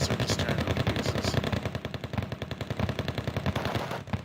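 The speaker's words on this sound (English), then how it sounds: "the machine guns on this are just tearing them to pieces" Machine guns fire in the real-time strategy game Wargame, a loud and continuous rapid rattle of bursts that runs without a break for the whole stretch.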